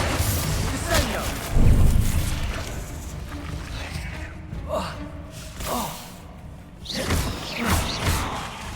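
Spell blasts from Confringo and Bombarda cast in the Hogwarts Legacy video game, a series of booming bursts and whooshing impacts at irregular intervals, with a voice speaking between them.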